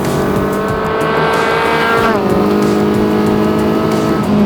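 A lightweight Mini fitted with a swapped-in Honda VTEC engine of about 170 horsepower revs hard through the gears, rising engine whine dropping briefly at a shift before climbing again, loud and close.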